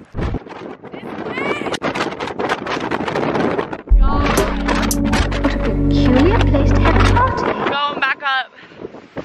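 Strong wind at the Grand Canyon buffets the microphone with a deep, steady rumble through the middle stretch, while people talk before, during and after the gusts.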